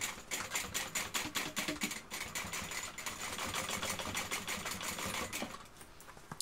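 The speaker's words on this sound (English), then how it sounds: "I'm going to sew these two sides together" A sewing machine stitches two sides of a backpack together, running in fast rhythmic bursts with brief pauses, then settling into a steadier whir before easing off.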